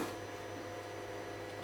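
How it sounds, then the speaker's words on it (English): A 3D printer runs steadily in the background, giving a continuous low mechanical hum with a whirring texture, faint and unchanging throughout, with no voices. "There's the noise of the 3D printer in the background"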